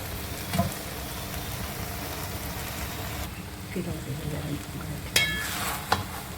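Chicken fried rice with vegetables and part-cooked rice being gently tossed in a hot pan, a steady sizzle with a few scraping clinks, while someone talks over it.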